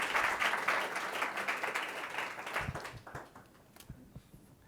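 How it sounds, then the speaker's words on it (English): An audience at a downtown business association panel event applauds the introduced speakers. Fairly strong clapping fades over a couple of seconds and thins to a few scattered claps, then quiet talking begins. "Yes, please applause."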